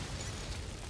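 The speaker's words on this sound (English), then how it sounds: "You'll get caught in this explosion" An explosion in the video game Scarlet Nexus, a short dense roaring blast with a heavy low rumble that holds steady throughout.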